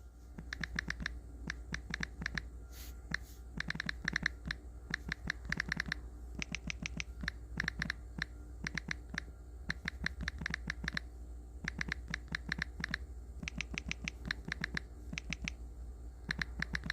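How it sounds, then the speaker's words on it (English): Rapid, steady clatter of keys on a computer keyboard, close and clear, with bursts of fast typing separated by short pauses and no talk over it. "I was typing."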